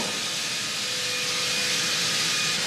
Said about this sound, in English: We're going to sand the floor, rough sand it, and start off with a 40 grit paper.